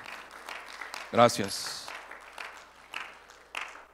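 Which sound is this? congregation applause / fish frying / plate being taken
congregation applause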